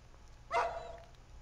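A single dog bark with a short tonal tail rings out once in a horror video game, moderately loud over a quiet, low ambient hum.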